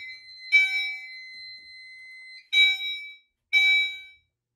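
A home fire alarm system sounds after a pull station is activated. Three loud, sharp tonal bursts ring out over a quieter steady tone, with gaps between them, and no voices.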